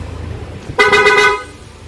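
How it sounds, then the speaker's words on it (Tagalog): One loud, blaring aftermarket loud car horn, switched on by a selector switch, honks close by for about half a second over a low idling engine rumble. "loud horn"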